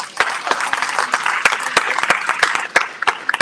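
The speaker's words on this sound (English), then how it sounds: "Everybody give Brittany a round of applause." An audience claps steadily, a dense burst of applause with a few sharp louder claps standing out.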